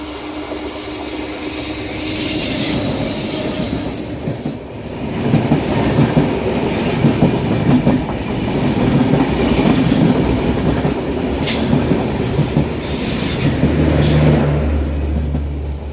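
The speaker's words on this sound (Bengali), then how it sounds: "স্টেশন নিউ ফারাকা কেবিন সিগন্যাল পেয়ে ট্রেন এগিয়ে চলল" A train rolls along the tracks at night near New Farakka cabin, a loud, continuous rumble with a rhythmic clickety-clack of wheels and occasional squeals, heard close up without talk.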